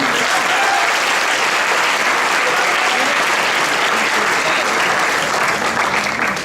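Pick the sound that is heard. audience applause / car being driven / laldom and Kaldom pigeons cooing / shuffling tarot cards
audience applause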